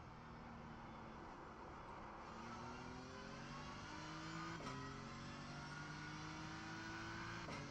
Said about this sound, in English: I kind of missed the sounds of the engine revving and stuff